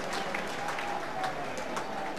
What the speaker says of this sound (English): Marco Gabbiadini earns applause from all four sides of the ground.